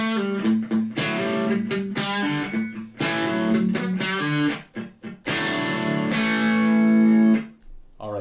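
Riff played on a Les Paul electric guitar with humbucking pickups through a slightly breaking-up amp, loud and close with choppy, rhythmic bursts of notes separated by brief stops and a sustained chord near the end.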